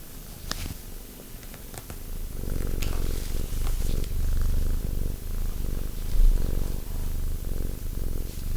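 A cat purrs close up in a steady, rumbling rhythm of breaths, alone and fairly loud throughout, with a few soft clicks near the start.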